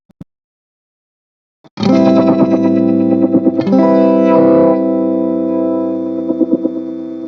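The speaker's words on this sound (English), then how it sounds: "now we've got some time-based effects happening" Synth tone run through LFO-modulated phaser and filter effects via a Boss PH-2 Super Phaser, entering after a couple of faint clicks as a loud sustained swirling chord that shifts once midway and pulses with sweeping movement.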